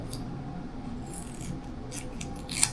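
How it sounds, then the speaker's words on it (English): Scissors cut through a piece of tape close by, giving a quiet rasping slide with a few brief snips, the last one sharper, over a soft indoor background. "Hold this tape here, and I'm going to cut it for you."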